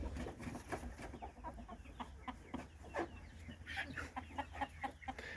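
Silkie chickens cluck softly and repeatedly at close range, a busy run of short, irregular clucks with faint background noise.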